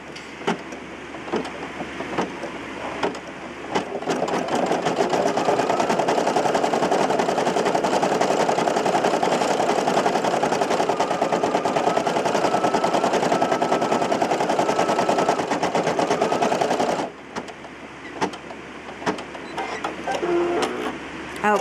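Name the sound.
Brother PE800 embroidery machine stitching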